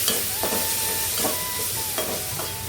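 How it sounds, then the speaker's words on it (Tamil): Chopped tomato stirred into a frying pan for a Bombay-style green pea gravy, giving a steady sizzle with several scraping stir strokes spaced through, close and moderately loud with no voices. "நம்ம கட் பண்ணி வச்சுருக்க ஒரு தக்காளியும் சேர்த்துக்குவோம்"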